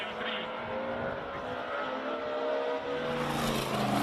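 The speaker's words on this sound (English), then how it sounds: "What a great sounding all four-cylinder E30 M3." The four-cylinder engine of a BMW E30 M3 race car roars at a classic car speed event in Cape Town, a continuous loud drone that rises slightly in pitch as it passes.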